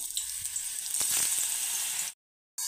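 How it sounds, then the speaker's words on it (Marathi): Ridge gourd pieces hit hot oil in a kadai, giving a loud, close, continuous hiss of frying that cuts off abruptly near the end, then resumes briefly. "कापून घेतलेल्या गिलक्याच्या फोडी आता कढईमध्ये घालून घ्यायच्या आहेत।"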